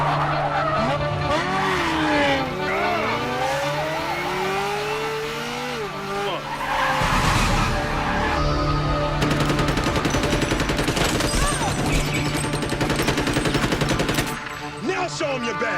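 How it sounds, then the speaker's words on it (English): Bad Boys 2 freeway chase shootout: tires skid and screech as cars swerve, then dense bursts of UMP submachine gunfire rattle from a Ferrari over roaring engines, loud and close throughout. "Will Smith and Martin Lawrence both wield UMPs during the freeway shootout in Bad Boys 2, while hanging out of a Ferrari"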